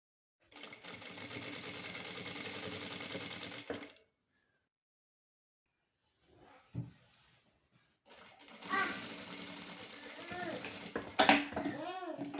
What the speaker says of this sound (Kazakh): Екінші бауды да дәл солай тігіп шығамыз.